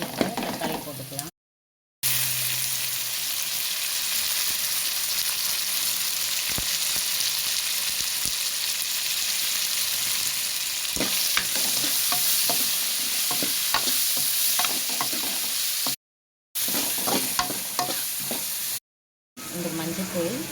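Onions and tomatoes sizzle steadily in a hot pan while being stirred for a fish curry, a continuous frying hiss broken by scraping and clinking of a spoon, with brief silent gaps.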